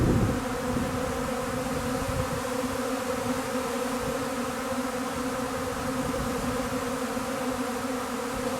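A swarm of honeybees buzzes and flies all around while settling, a dense, steady drone with no break, close and fairly loud, with no voices.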